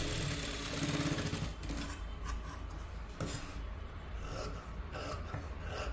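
A sewing machine stitches the lining of a katori blouse, its rapid mechanical chatter running loud and continuous, easing slightly and pausing briefly mid-way before resuming.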